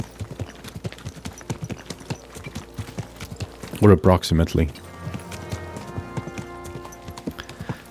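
Horse hooves clip-clop in a steady trotting rhythm in the Kingdom Come Deliverance 2 video game, with a brief loud snort or whinny midway and someone speaking briefly.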